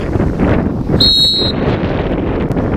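A short, sharp referee's whistle blast at a freshman football game rises above a loud, rumbling outdoor background of crowd and wind noise.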